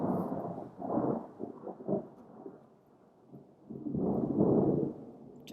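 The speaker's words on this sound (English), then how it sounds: "Just waiting for the thunder and lightning to stop." Thunder during a thunderstorm in Medellín, Colombia: deep rolling rumbles that swell, fade briefly, then build into a long, heavy peal, fairly close and loud with no voices.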